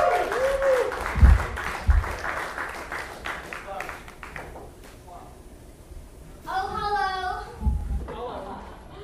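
Audience applause for a comedian on a variety show, clapping and crowd noise that swells, thins out and returns, with a voice and some whistling or music-like tones over it.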